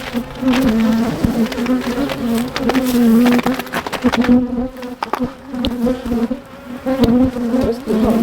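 Honeybees hum continuously around a hive during a hive inspection outdoors, a close, dense buzzing that rises and falls as individual bees pass near, with occasional faint knocks and rustles.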